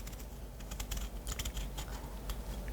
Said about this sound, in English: cut the skin, remove the skin, and then always cut the persimmon into wedges